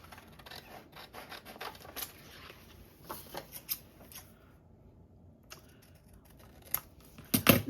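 Scissors cut through paper to free flower shapes for a journal. Close, quiet snips and rubbing rasps come in clusters, with a short pause and a louder rustle at the end.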